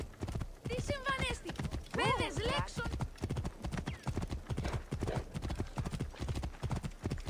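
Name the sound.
horse hooves clip-clopping, video game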